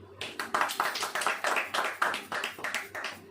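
A church congregation claps hands together at a prayer service, a dense run of sharp, roughly rhythmic claps lasting a few seconds, close and fairly loud, with a faint low hum underneath.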